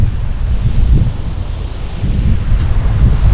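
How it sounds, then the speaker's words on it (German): Strong wind buffets a GoPro MAX camera microphone outdoors, a steady loud low rumble with gusty flutter and no voices. "Denn es ist wirklich ordentlich windig."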